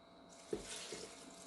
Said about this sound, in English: Next, I'll be adding a little water.